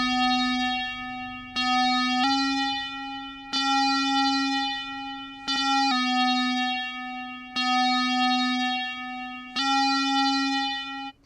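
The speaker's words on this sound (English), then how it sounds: "as it plays over time and the square wave changes from high to low to high to low" A synth square wave tone on a Deluge, modulated by an LFO, sustains as a steady buzzy pitch that restarts with each new note every one to two seconds, playing alone without talk.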